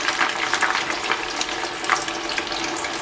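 A steady, dense sizzle and crackle of potato wedges deep frying in hot oil, continuous and close with no talking.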